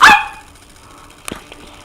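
A pet dog gives a single sharp, loud bark at the very start, close to the listener, followed by a faint short yip or thump and quiet room tone.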